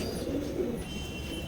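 A pigeon coos softly nearby, a low rolling throaty call in a brief burst against quiet background noise.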